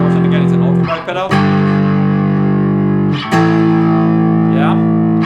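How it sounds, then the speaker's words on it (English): Electric guitar played through an overdrive pedal with the drive turned all the way up, loud sustained saturated chords ringing out, briefly cut twice before being struck again. "That's the most intense distortion that can be that I can get from this pedal."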